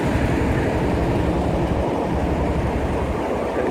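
A loud, steady roar of a passing Colas Rail class 37 diesel locomotive hauling a test train, a dense rumble with a faint rhythmic clatter of wheels on rail, close by.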